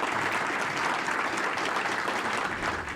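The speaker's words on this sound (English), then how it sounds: "Let's give Brian a big round of applause" An audience applauds after a cloud development talk with a steady, full round of clapping from many hands, continuous and fairly loud throughout with no talk over it.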